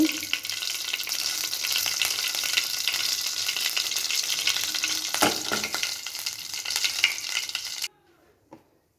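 Loud, continuous sizzling of onion, garlic and green chilli paste frying in hot oil, with faint stirring scrapes, cutting off abruptly into near silence near the end.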